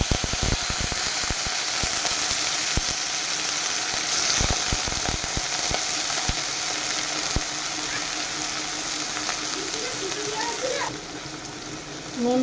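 Prawns crackle and sizzle in hot oil in a wok, with a dense, steady frying hiss and occasional clinks throughout, under a home kitchen setting.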